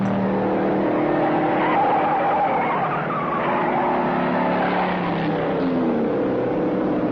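Cars race and skid, loud engine roar with tire squeal rising and falling over several seconds, a busy, continuous motor noise with no talking.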